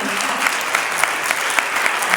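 A congregation at a Christian worship gathering claps in a steady rhythmic beat, with sharp individual claps landing about every quarter second over a dense, continuous wash of hand-clapping.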